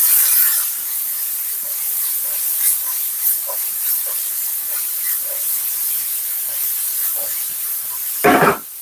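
Beef and onion stir-fry sizzles steadily in a hot pan, a continuous close hiss with small pops and crackles throughout, ending with a brief louder clatter of the pan.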